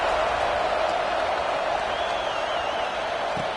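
A stadium crowd in College Football 25 roars in a steady, dense wash of cheering and applause that holds at an even level throughout, with no clear voices standing out.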